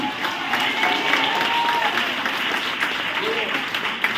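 A congregation claps their hands during a Sunday revival church service, producing a steady, fairly loud spread of clapping throughout, with some voices audible underneath.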